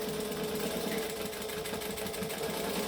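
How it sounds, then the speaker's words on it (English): A sewing machine runs in a steady, continuous whir while stitching and backstitching along a garment edge, its needle chatter even and fairly close. "So we're going to stitch and backstitch."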